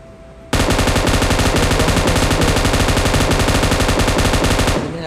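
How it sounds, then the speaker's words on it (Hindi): Sustained rapid automatic fire from an M249 machine gun in PUBG Mobile, loud and continuous for about four seconds after a brief quiet lead-in, with no voices over it. "M249 द पापा गन"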